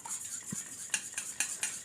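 A spoon stirring a small bowl of mixture for coconut junnu, making quick bright metallic clinks and scrapes against the bowl's side, a few of them louder taps spaced through a short, quiet stretch.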